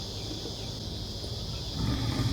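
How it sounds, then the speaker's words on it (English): Low, rumbling growl of a lion in a children's story, building steadily and swelling louder toward the end, heard alone without speech. "Suddenly he heard a fierce growling and grumbling and snarling."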